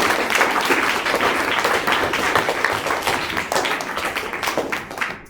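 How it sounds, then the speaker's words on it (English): Dense, steady applause from an audience at a Year 6 school leavers' presentation, many hands clapping at once for the full stretch and easing off slightly near the end. "My hands are sore from all this clapping."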